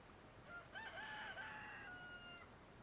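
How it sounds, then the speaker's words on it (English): A rooster crows at dawn in a strategy video game, one clear rising-and-falling call lasting over a second, moderately loud with a faint background and no talking. "There's the crowing of the chicken to announce that it is morning now"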